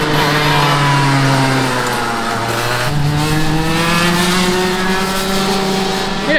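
A racing go-kart's engine accelerates on a karting track, a loud buzzing whine that climbs steadily in pitch, dips briefly and then rises again with no voices.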